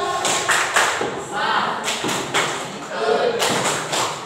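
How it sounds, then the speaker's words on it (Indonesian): An audience performs a 'tepuk salut' salute clap in rhythmic bursts of group clapping and thumps, with voices chanting along between the claps. "Berikan tepuk salut"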